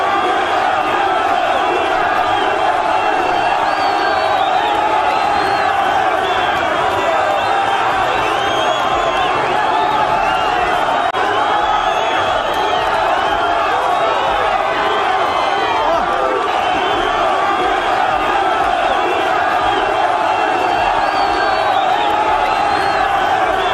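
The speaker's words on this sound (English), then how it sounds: "here is a video of that crowd that was around the DP on his way out at Kondele" A large political crowd surrounds the Deputy President as he leaves Kondele, a dense, continuous roar of shouting, chanting and cheering voices that stays loud and steady throughout.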